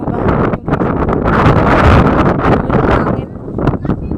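Loud wind buffets a microphone outdoors on a trip home, a continuous rough rumbling roar with gusty surges, and some talking mixed in.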